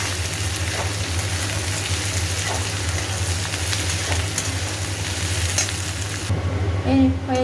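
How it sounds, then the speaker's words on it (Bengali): Okra, potatoes and onion fry in a pan with a steady, close sizzle throughout, broken by faint stirring scrapes and a brief clink near the end. "পেঁয়াজ দিয়ে দিয়েছি। এবার এটা ভালো করে ভাজি।"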